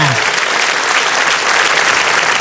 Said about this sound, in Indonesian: Ya ini boleh tepuk tangan buat Universitas Budi Luhur.